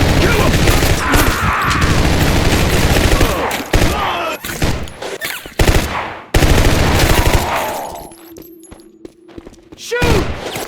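Heavy gunfire in Max Payne 2 rattles in long, loud automatic bursts with thuds and breaking impacts, broken by brief pauses, then sparser close shots; voices shout between the volleys.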